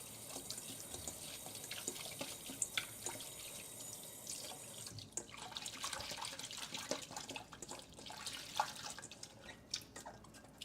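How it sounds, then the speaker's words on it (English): Tap water runs into a bowl as basil leaves are rinsed, a steady splashing trickle with drips and small clatters, fairly close and unaccompanied by talk. "Probably gonna rinse them, I'll rinse them in a bowl"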